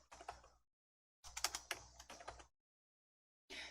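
Keys tapped on a computer keyboard while entering a word into a search box, in two short bursts of clicking with a brief third burst at the end, close and fairly quiet.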